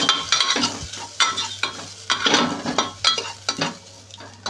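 Red chilli powder and coriander powder are sautéed in a pan, with rhythmic spatula scrapes and stirs over a steady low sizzle, close and fairly loud.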